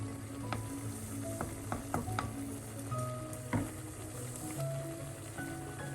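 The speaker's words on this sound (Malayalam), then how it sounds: "ഇളക്കി കൊടുത്ത് നോക്കാം." Kootu curry is stirred in a pan with a soft sizzle underneath, giving scattered close scrapes and light clinks of the spoon against the pan.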